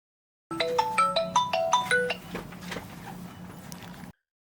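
A phone ringtone on an unanswered call plays a quick rising melody that repeats a few times, then breaks off and gives way to faint room noise before silence.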